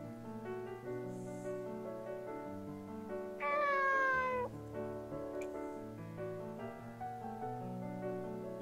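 Cat meowing in the video game Nights of Azure, one drawn-out cry rising over steady orchestral game music, with a faint higher mew earlier; no talking.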